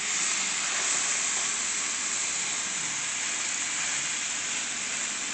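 A nearly 3-pound boneless herb leg of lamb sears in a hot pan, giving a loud, steady, bright sizzling hiss that holds evenly throughout, close by and with no talk over it.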